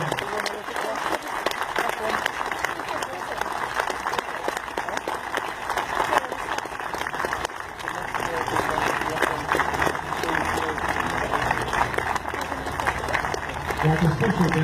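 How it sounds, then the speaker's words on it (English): A final round of audience applause closing a Légion d'honneur presentation ceremony for Charlie Hill in Richmond, sustained crowd clapping over a long stretch with background murmur and voices underneath. "last round of applause"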